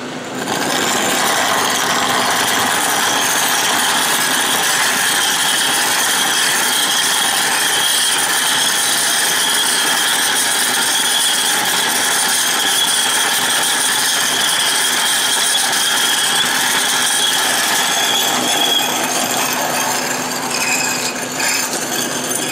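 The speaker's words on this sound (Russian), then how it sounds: "Просверлили." Steady, loud, continuous grinding and rasping as a metal disc is drilled through in a tool workshop that makes press molds, harsh and unbroken throughout with no talk.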